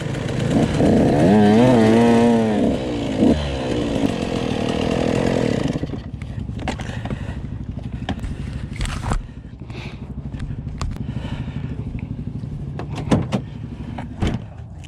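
A Husqvarna TC 85 dirt bike engine being jetted, revving loudly with a wavering, buzzing pitch before dropping to a rough, uneven idle with sputters and pops.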